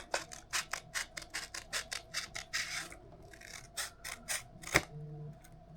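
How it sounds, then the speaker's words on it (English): Small leaf-shaped paper punch snapping repeatedly through paper: a quick series of crisp clicks and crunches, close and fairly quiet, ending with one sharper punch. "I have a bunch of little, they're like hole punches, and there's this leaf one"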